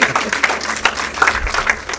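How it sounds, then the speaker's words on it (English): A studio audience gives a round of applause during a televised quiz show marking Akwa Ibom State's 35th anniversary, a dense steady patter of clapping lasting the whole moment with crowd noise underneath. "You can even console him with a round of applause."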